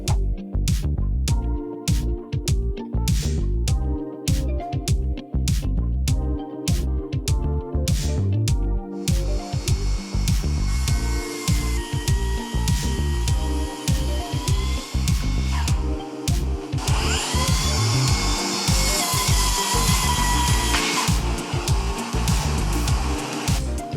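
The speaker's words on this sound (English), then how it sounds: "Let's fire up the track saw." A track saw cuts through desk wood, a loud, close, sustained whine with stuttering bursts at first, then a steady high-pitched cutting roar that rises in pitch toward the end.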